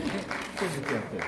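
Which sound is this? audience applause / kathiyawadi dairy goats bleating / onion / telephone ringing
audience applause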